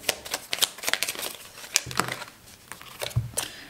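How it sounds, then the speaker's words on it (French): Tarot cards are drawn and shuffled from a deck, giving a close series of irregular crisp flicks, snaps and papery rustles with brief soft pauses. "je vais tirer peut-être quelques petites cartes encore."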